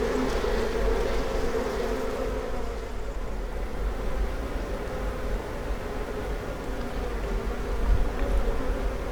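Honeybees on a Japanese bee farm give off a steady, dense buzzing swarm hum that stays even and continuous throughout.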